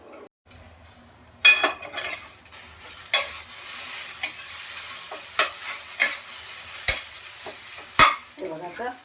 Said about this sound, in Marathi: दोन वेळा झाकण ठेवून काढून पुन्हा पुन्हा असे परतून घेतली